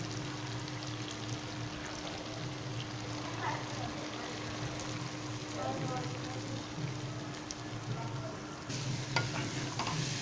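Split Bengal gram stirred into a frying spice tempering in a pan for bitter gourd and dal, giving a steady sizzle with scraping stir strokes throughout, fairly faint.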